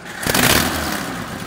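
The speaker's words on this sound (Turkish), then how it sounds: "Şimdi aracımıza bir marş yapıyoruz." A rebuilt Renault Clio 2 1.6 engine, repaired after a timing belt failure, is started. It surges into a loud, rough run that lasts only a moment.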